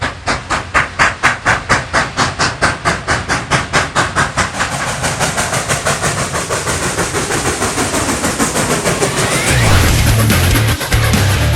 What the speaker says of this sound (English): That's the sound of Superpower Steam.